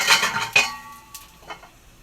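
A lid set onto a paniyaram pan, two quick metallic clanks with a brief ringing tail, followed by fainter clinks, no talking.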